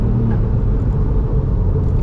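A 200bhp Ford Fiesta ST Mk8 pulls hard under acceleration, a steady, loud, smooth engine rumble from inside the car holding an even tone across two seconds with no talk.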